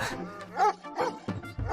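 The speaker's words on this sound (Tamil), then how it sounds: "இந்த டைம்ல இந்த நாய்ங்க ஏன் கத்தின்னு இருக்கு" Dogs bark at night, a few sharp yelps close by, mixed in with a voice talking over them.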